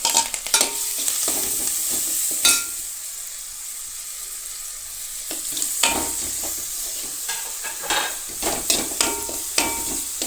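Curry leaves, green chili and ginger paste sautéing in hot oil for a pickle, a steady close sizzle broken by repeated scraping stirs of a spoon in the pan.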